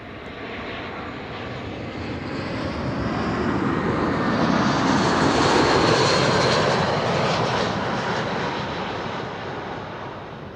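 A British Airways airliner arriving at Amsterdam Schiphol from London Heathrow passes overhead, its engine roar swelling broadly to a peak mid-pass and then easing off, loud and continuous with no talk.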